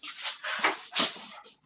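A dog whimpers and whines in a few soft, short, breathy bursts while waiting to be let outside into a backyard, faint and close by with no talking.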